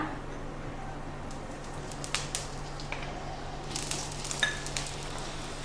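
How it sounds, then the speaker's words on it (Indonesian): Onion frying in hot oil in a pan, a soft steady sizzle with light crackles and a few sharper pops and stirring clicks, close and fairly quiet. "Ini minyaknya sudah panas, kita tumis bawang bombaynya ya."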